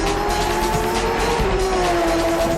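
Porsche 911 GT3 RS braking hard from high speed on a track, loud continuous tire squeal with a sliding pitch over the engine drone.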